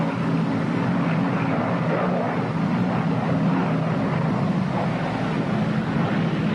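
A WWII P-61 Black Widow twin-engine night fighter lands with three-quarter flaps, a steady loud engine drone with airy wind rush throughout, no voices over it.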